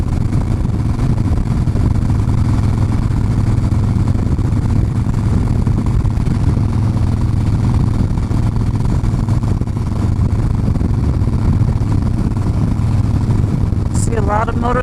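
A Harley motorcycle ridden on the road from Yarnell toward Prescott gives a loud, steady engine rumble mixed with wind rush that runs unbroken for the whole stretch, with a brief higher whine near the end.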